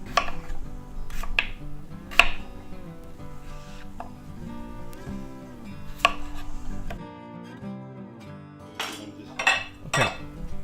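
A kitchen knife chops potatoes into chunks on a cutting board, a series of close, sharp thuds and clicks at irregular intervals over a faint background hum and a musical tone.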